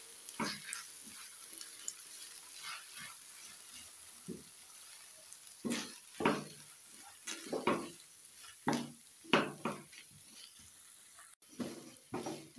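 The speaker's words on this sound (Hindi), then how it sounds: "अच्छी तरह से मिक्स करेंगे" A spoon works through mayonnaise sandwich stuffing in a bowl, giving soft wet squelches and scrapes in short uneven bursts, quiet and close, with pauses between strokes and no talking.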